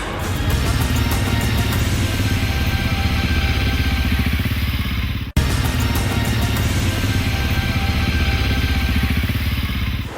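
Motorcycles just unloaded from a shipping container run with a loud, steady engine drone and rapid rhythmic firing pulses. The sound cuts out for an instant midway, then continues at the same level.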